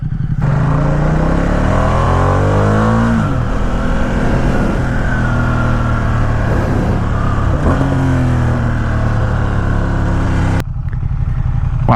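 A stock 2017 Ducati XDiavel S motorcycle on a test ride, its engine droning loud and close with rising and falling revs as it accelerates and shifts, then cutting off abruptly near the end.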